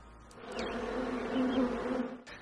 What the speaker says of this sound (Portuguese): Impacientemente as abelhas esforçam-se para entrar na colmeia